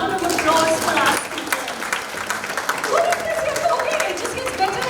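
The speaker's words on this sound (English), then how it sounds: "Guys, a round of applause for us." At a special film premiere, an audience claps in a steady patter of applause that dips briefly and then picks up again, with voices mixed in.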